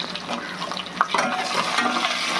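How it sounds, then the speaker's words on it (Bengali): Potatoes frying in a pan alongside capsicum, a steady close sizzle with bursts of stirring scrapes and no voices. "এবার আলুটা ভাজা হোক"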